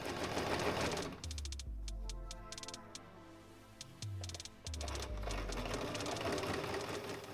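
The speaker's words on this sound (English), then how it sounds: "With our fabric right sides together, we align the edge and sew a straight line along it." A sewing machine runs a straight seam through fabric placed right sides together, with several steady bursts of rapid mechanical stitching separated by short pauses, loud and close.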